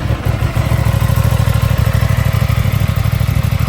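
A 2024 Aprilia RS660 Tribute motorcycle engine starting cold settles into a steady, close, loud idle with a rapid pulsing beat and mechanical clatter, heard alone without any talk.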